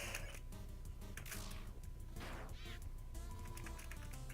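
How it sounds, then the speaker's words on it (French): Playful electronic game sounds from Undertale, with repeated whooping, meow-like sliding tones from toad creatures over a busy, constant musical background. "Les putains de crapauds font miaou."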